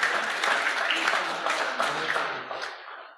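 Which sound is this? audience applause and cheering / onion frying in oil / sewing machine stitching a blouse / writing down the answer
audience applause and cheering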